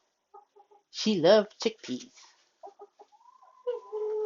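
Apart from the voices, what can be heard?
Orpington chicken clucking in a winter coop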